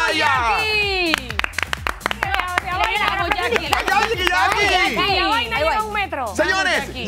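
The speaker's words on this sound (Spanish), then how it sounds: "¡Fuerte los aplausos para ella!" Enthusiastic crowd applause with dense, rapid clapping and a loud amplified voice calling out over it, at a beauty pageant casting in Panama.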